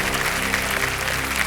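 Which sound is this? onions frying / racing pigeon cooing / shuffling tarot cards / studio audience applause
studio audience applause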